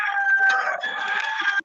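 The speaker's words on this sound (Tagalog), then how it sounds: "Tugaok ng manok ni" Nearby rooster lets out a single loud, sustained crow that holds steady for over a second and cuts off abruptly.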